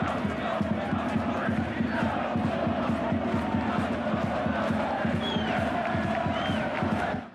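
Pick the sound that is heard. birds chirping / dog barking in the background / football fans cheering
football fans cheering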